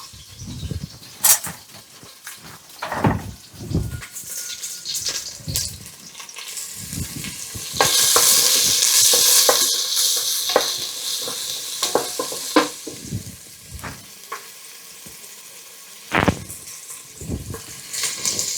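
Shallots fry in coconut oil in a pan, giving a steady sizzle with loud stirring and scraping knocks, a stronger hiss swelling midway, close and without talk.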